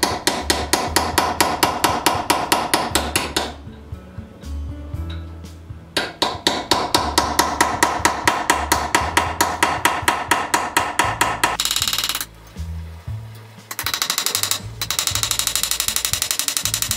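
A hammer strikes a single bevel chisel, hand-cutting steel in a machine shop: rapid, sharp, ringing metallic blows in fast even bursts, with brief pauses between runs, close and loud.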